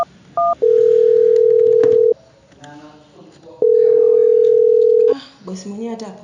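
Telephone dialing: short beeping tones followed by two long, loud steady dial-tone stretches, with speech and background noise in between and after.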